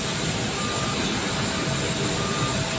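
An airliner departing from an international airport ramp gives a loud, continuous jet engine roar with a faint beeping tone over it.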